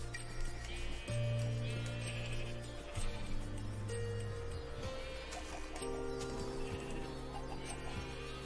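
Minecraft 1.18 sheep bleat again and again over soft game sounds, each call short and wavering, with a few faint clucking chicken calls mixed in.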